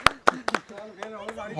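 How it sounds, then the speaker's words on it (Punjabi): People clapping hands during a childhood marble-style game played outdoors in Punjab, a few sharp, uneven claps in quick succession at the start, then fading as voices talk over them. "ਤਾੜੀ ਲਾ ਤਾੜੀ ਲਾ ਦੇ"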